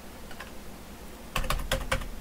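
Several quick clacks on a computer keyboard as a command is entered into a Windows command prompt, a short burst of keystrokes after a quiet pause, close and fairly clear with no one talking.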